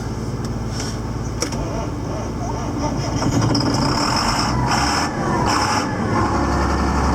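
A cold tractor engine runs at a steady, rumbling idle after starting. It is loud and close, with occasional brief clanks over the drone.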